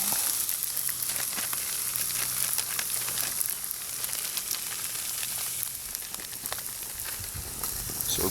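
Butter sizzling in a mess kit pan for a roux, a constant close crackling sizzle with scraping and stirring noises throughout, alone without talk.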